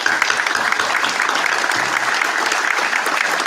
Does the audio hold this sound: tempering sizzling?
no